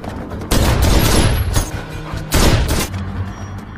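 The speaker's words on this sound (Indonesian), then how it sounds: "Jim segera berlari dari sana sambil terus-menerus menembaki mereka" Gunfire from a shooter firing repeatedly while running from an opposing team in a game: loud, close bursts of shots and booming impacts in two heavy volleys with brief gaps between them.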